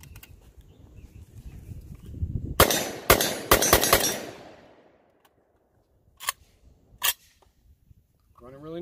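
Several sharp, loud reports from a Kalashnikov USA Komrad 12 gauge shotgun fired in quick succession, followed after a pause by two more separate shots, with outdoor background noise between.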